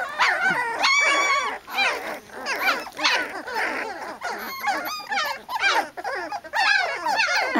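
A litter of newborn puppies whimpers and yips continuously, with high, wavering squeals overlapping one another close by, rising and falling in a busy chorus.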